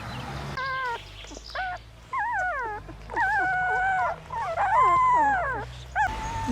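Two-week-old puppies from a litter of ten whimper and whine in high, wavering cries, several overlapping in short bursts, close and fairly loud.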